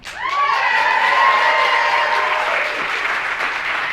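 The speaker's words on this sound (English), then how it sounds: "I'm glad you guys are going to be cheering and interactive" Wedding guests break into loud applause with cheering and a few whoops, a dense close crowd of clapping that swells quickly and then holds steady.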